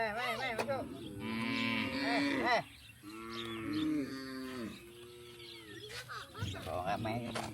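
Several cattle low loudly inside a cow shed, their long drawn-out moos overlapping and following one another through the whole stretch, close by, while a person speaks briefly between calls.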